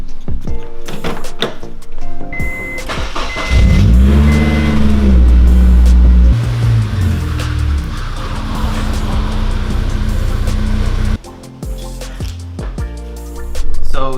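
A Honda S2000 is started and driven into a garage, its engine revving and idling close by amid some clunks and echoing garage noise.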